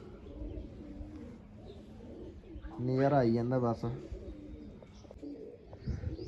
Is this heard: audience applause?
no